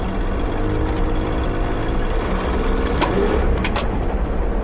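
A 2000 Nissan Xterra's engine drones and pulls hard as it accelerates on a dirt road, a steady low rumble heard from inside, with a brief word spoken near the end.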